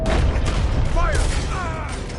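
Gunfire crackles in a dense, loud volley at close range, followed by a few fainter ricochet-like whines, with voices talking over the shooting.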